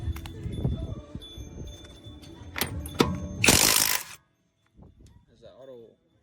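A SEYVUM 1/2-inch impact wrench removes car lug nuts: short bursts of rattling hammering and clicks, ending in a loud spinning whir, with someone speaking briefly in between and after.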